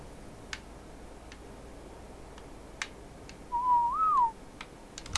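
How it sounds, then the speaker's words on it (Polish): A single short whistle rises and falls over a quiet background of scattered soft ticks and clicks, during ARK: Survival Evolved gameplay. "nie gwizdaj, bo będzie bolało"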